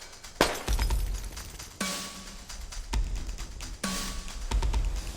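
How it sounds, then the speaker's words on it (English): Glass panels crack during a factory safety test in a series of sharp, loud breaking snaps, about five distinct impacts spread over a few seconds over a constant machinery rumble. "If it cracks safely, not shatters, it passes."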